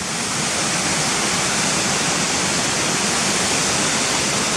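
Loud, constant roar of waterfalls near Gunnerside, a dense unbroken rush of falling water that fills the whole span, close by and with no voices.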